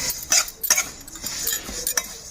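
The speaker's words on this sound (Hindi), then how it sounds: "देखिए इधर मैं सफ़ेद वाला तिल भी भून लूँगी" White sesame seeds roasting in a pan, stirred with a utensil, giving soft rhythmic scraping and light clinks against the metal close by, with no talking.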